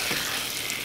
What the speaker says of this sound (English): When your oil starts to sizzle, that's when you want to add your chicken.